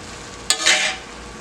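Corned beef and cabbage in a pan give a sudden brief sizzle and bubbling hiss that swells then fades within a second, heard close and alone over low background noise.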